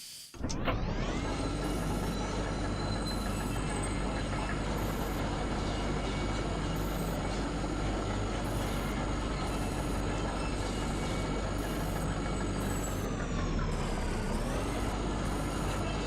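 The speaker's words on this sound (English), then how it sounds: "now we're on a tram moving through the mine" A mine tram in the video game Kentucky Route Zero starts with a sudden onset, then rolls steadily through the mine with a loud continuous rumble and a high whine. The pitch dips briefly near the end.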